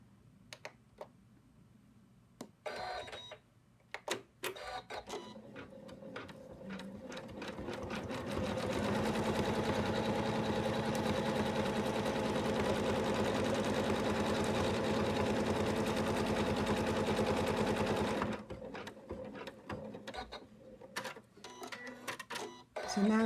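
An embroidery machine stitches the face outline on an in-the-hoop Santa bib, a fast, steady mechanical chatter running for about ten seconds, framed by quieter clicks and handling noises before and after.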